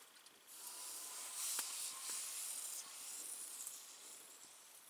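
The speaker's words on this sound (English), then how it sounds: "Steaming now." Steam hisses steadily during cooking of waffles, bacon and sausages on a winter overnight camping trip. The hiss is a faint, continuous airy rush, with a few soft clicks through it.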